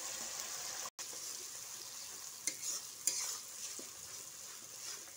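Ground spice paste frying with browned onions and bay leaf in a pan for a spicy coconut-paste rohu fish curry, a faint steady sizzle with a brief dropout and a few soft stirring scrapes, no voices.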